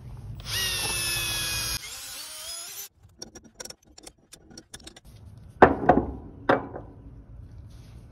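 A power tool whines and whirs loudly for about three seconds as it takes off a wheel on a 14k gooseneck trailer, followed by scattered clanks, metallic knocks and a few sharp impacts nearby.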